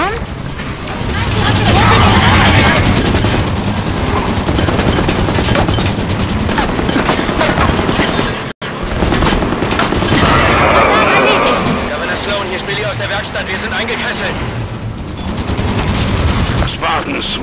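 Sustained automatic gunfire and bursts of shots in the Halo 5: Guardians shooter, loud and dense throughout with a brief dropout midway, under steady combat noise.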